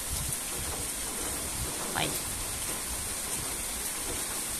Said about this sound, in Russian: Мы только пришли домой, и дождь начался.